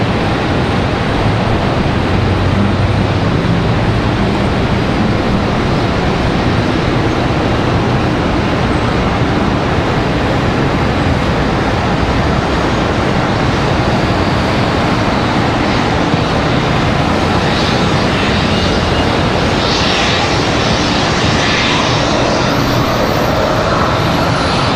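A PSA Airlines CRJ 900 LR jet touches down at Charlotte Douglas, a constant loud broadband roar of engine and wind noise that holds steady for about twenty-five seconds, with no talk.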